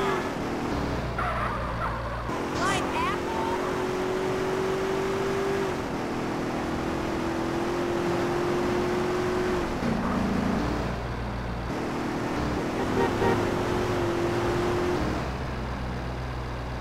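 Car engine droning steadily while driving in Grand Theft Auto: San Andreas on PS4, with a sustained hum that shifts pitch as gears change, continuous and fairly loud with no talk.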